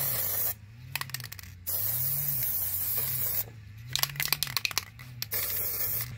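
An aerosol spray paint can fires in two sustained hissing bursts with a pause between, close and clear, with a low steady hum underneath.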